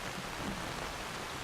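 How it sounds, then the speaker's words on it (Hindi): Hail falls outdoors as darkness begins to set in, a dense, steady, even roar of impacts filling the whole moment without any voices. "बाहर निकलते ही ओले पड़ने शुरू हो गए"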